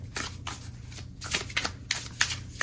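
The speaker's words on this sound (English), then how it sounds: "I'll pull maybe 3 different cards to see." Cards are shuffled close up in a series of quick riffling bursts before three are drawn for a reading, with short pauses between the crisp shuffles.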